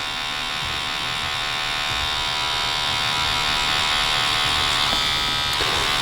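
Tattoo machine fitted with a 7 mag needle shading background on a rose tattoo, giving a steady close electric buzz with a faint hum, continuous and unbroken for the whole stretch.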